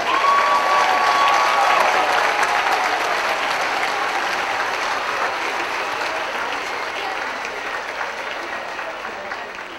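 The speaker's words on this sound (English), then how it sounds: "let's give a final round of applause for all of our doctoral graduates today" A large audience at a university commencement ceremony gives a final round of applause for doctoral graduates, dense and loud at first and tapering slowly over about ten seconds, with no voices over it.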